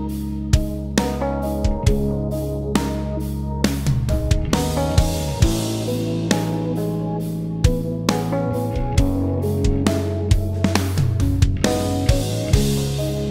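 A drum track plays back inside the Studio One DAW, with steady punchy kicks and snappy hits in a repeating groove over low sustained bass tones, clean and upfront with no talking.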